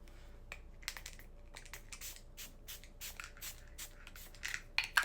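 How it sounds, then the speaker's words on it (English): A Bloodline Beauty makeup finishing spray is pumped in a series of quick, close hissing bursts, about a dozen short sprays in irregular rhythm with faint handling noise between them. "Then I'm gonna use this Bloodline Beauty finishing spray."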